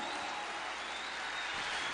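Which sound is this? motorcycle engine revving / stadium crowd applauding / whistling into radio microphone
stadium crowd applauding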